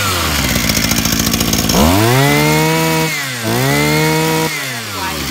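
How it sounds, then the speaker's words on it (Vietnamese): A small chainsaw is pull-started with a rattling cord stroke, then its two-stroke engine catches and runs loud and close, rising and falling in pitch as the throttle revs twice. "khách em đi cưa nè, đó, giật có hai cái là nổ thôi nha anh em."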